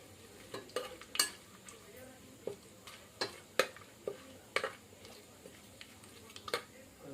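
Cloves, chilies and cinnamon fry in oil, a faint low sizzle broken by a run of sharp, irregular clinks and scrapes from stirring in the pan.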